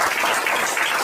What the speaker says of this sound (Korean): 축하의 박수를 한번 드렸으면 좋겠습니다